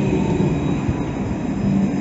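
A tram in Santa Cruz, Tenerife, rumbles steadily nearby, with rolling wheel noise and a faint metallic whine over a continuous low drone.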